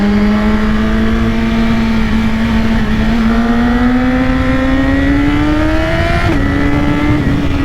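BMW S1000RR sport motorcycle accelerating hard with a quickshifter, a loud close engine note rising steadily in pitch, then dropping sharply at a quick upshift before climbing again.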